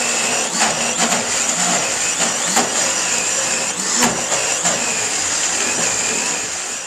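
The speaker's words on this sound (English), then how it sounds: "You can see the goji berries are in there now, and we're just going to give them a little blend." A blender mixes goji berries into raw vegan chocolate with a steady, loud whirring drone and intermittent clunks and rattles throughout, easing off slightly at the end.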